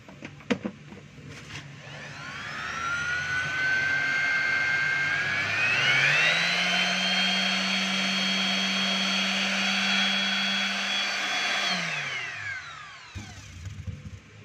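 A DeWalt DWE6423 finishing sander with a freshly replaced rubber pad spins up with a rising whine, holds a steady buzzing hum for several seconds, then winds down, preceded and followed by a few close handling clicks.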